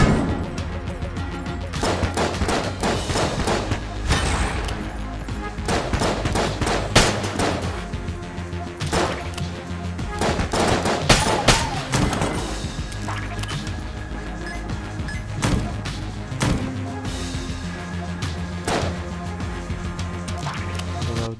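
Rapid, dense gunfire from the bullet-hell game Enter the Gungeon, shots cracking in quick bursts over busy game music and effects, loud and continuous throughout with frequent sharp impacts.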